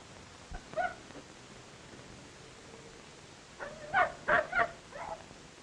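Small dog calls: one short yip, then after a quiet stretch a quick run of three or four whimpering barks, faint and somewhat distant over a low, steady background hiss.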